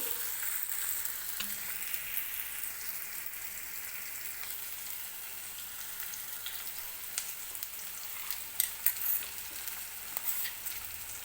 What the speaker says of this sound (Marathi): आता आपण जे वाटण तयार करून घेतलं होतं ते वाटण मी याच्यामध्ये टाकून घेते